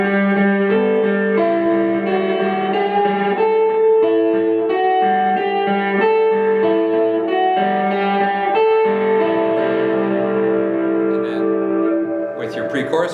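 Effects-laden lead electric guitar plays a worship song. Steady, sustained melodic notes ring with reverb and echo throughout, with no talking.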